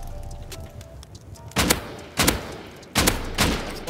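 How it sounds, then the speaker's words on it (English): Video game gunfire shooting out a shotgun trap in a vending machine bunker: three loud, close blasts about a second apart, each with a short decaying tail, after a quiet lead-in. "I'm just gonna shoot it out."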